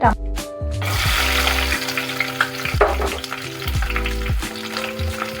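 Onions fry in oil with biryani masala for tomato rice, a steady close sizzle with a few stirring scrapes and clinks, the hiss swelling after each stir.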